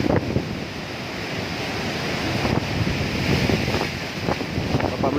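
Strong typhoon wind from Typhoon Odette roars steadily around a damaged house with a torn-off roof, a loud, continuous buffeting rush with gusty surges and no speech.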